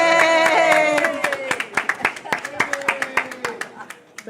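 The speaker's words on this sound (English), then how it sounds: "All right, everybody stand up and applaud as she comes in." An audience at a live show claps in a scattered rhythm, with sharp individual claps close by. Loud speech and cheering run over the clapping at the start, and the applause thins out toward the end.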